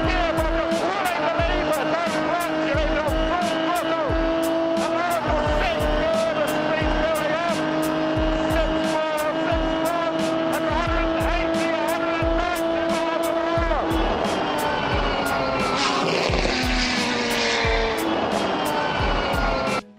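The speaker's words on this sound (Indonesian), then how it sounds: "suara mesinnya juga udah kayak alunan biola di musik-musik klasik" A Lister Storm sports car engine howls loudly at racing speed, a sustained high-pitched note that shifts as it passes, with tire squeal and rhythmic clicks, under a person's voice.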